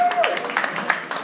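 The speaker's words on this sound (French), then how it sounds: "on peut l'applaudir encore" Audience at a mentalist's stage show claps briefly, a short burst of applause with a voice talking over it.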